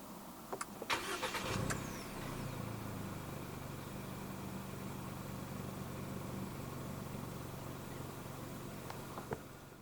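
A 2024 GAC GS3 Emzoom with a 1.5 turbo engine starts from inside the cabin: a few clicks, a short crank and catch, then a quiet, steady idle with faint clicks near the end.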